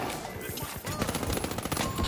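Bursts of automatic gunfire from the video game THE FINALS, a dense, rapid rattle that starts after a brief lull and continues close and loud to the end.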